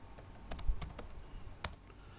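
Fingers type a short word on a computer keyboard, a quick, close run of light plastic key clicks ending with a firmer final press, like the Enter key, with no talking.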